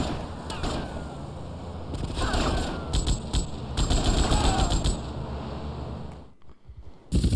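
Bursts of automatic M60 machine gun fire in GTA Vice City over a dense rumbling game soundscape, with a brief lull near the end before firing resumes.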